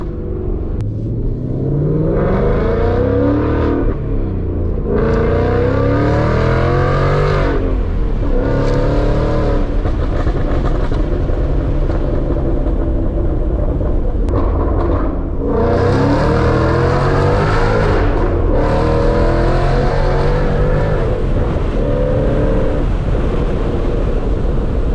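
A supercharged Ford Mustang engine roaring loud and close as it accelerates, its pitch climbing through each gear and then dropping at slow, deliberate shifts, with supercharger whine over the rumble.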